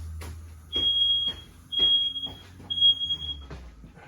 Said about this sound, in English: our ever-vigilant smoke detectors are going off